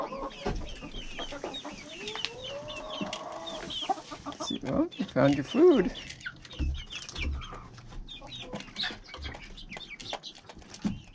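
Chickens cluck and chirp close by in short bursts, with a person speaking briefly amid the birds.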